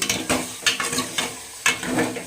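Chicken sizzles in hot oil in a pan with onions, under repeated scraping and stirring strokes of a utensil, steady and close, no voices.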